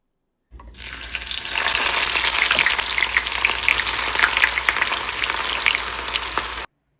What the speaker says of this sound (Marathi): मस्तपैकी कांदा फ्राय करून घेतलेला आहे